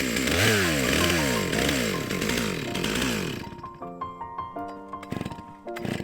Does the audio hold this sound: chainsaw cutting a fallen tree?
yes